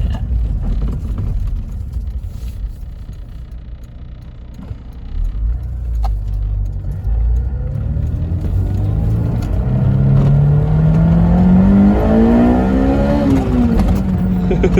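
A Honda S2000 AP1 with the F20C engine pulls hard, its steady in-cabin drone climbing into a loud, rising howl toward a high-revving peak, then dropping away as it shifts.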